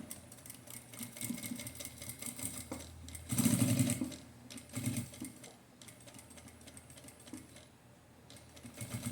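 A sewing machine topstitches an inner fabric lining in fast, even runs of rapid needle clatter, pausing and restarting, with a louder burst midway, and no talking.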